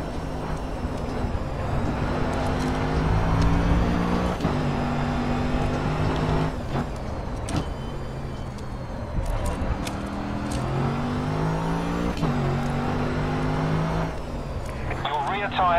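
Mercedes AMG GT3 race car in GRID Autosport at Autodromo do Algarve: a loud, close engine drone rising and falling through gear changes, with shifting pitch sweeps and sharp clicks, under occasional talk.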